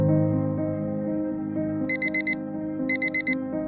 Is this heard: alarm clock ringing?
yes